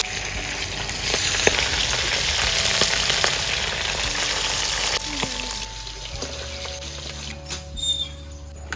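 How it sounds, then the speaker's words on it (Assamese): Fish fries in a pan in a village kitchen, a steady close sizzle with crackles and clinks of stirring, easing to a quieter bubbling toward the end. "এইফালে এতিয়া মাছখিনি ফ্ৰাই কৰিম"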